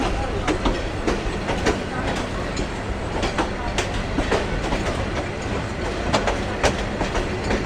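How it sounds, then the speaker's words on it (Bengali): A train rolls along the rails just after pulling out of a station. Loud, close, continuous rumble carries a rhythmic clickety-clack of wheels striking rail joints, with sharp metallic ticks recurring every second or so. "ট্রেন চলছে"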